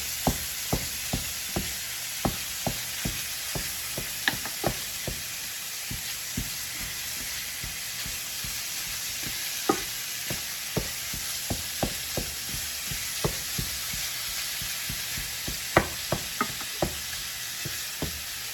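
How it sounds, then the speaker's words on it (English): Ground meat coated in a seasoning paste is broken up and stirred in a hot pan, a constant sizzle punctuated by regular sharp taps and scrapes of a utensil against the pan. "you want to break the meat up and coat it with that paste we just made"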